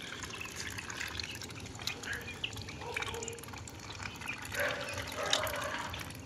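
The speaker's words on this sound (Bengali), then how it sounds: "জল খাচ্ছে দেখুন।" Ducklings sip and splash water from a clay bowl, giving soft, irregular dripping and dabbling sounds close by with faint background noise throughout.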